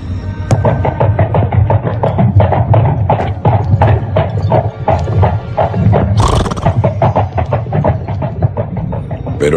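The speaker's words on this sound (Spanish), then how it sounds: "se escuchó con más fuerza el tropel de unos caballos que se acercaban" Horses gallop close by, a dense, rapid drumming of hooves that stays loud and steady, with a brief whinny partway through.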